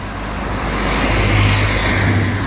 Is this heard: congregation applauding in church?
no